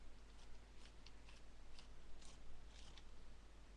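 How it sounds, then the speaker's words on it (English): Quiet, rapid scraping and grinding clicks repeat in short bursts, like a pencil turning in a small hand sharpener, close and faint. "let me just sharpen these, because I can't do without my pencil"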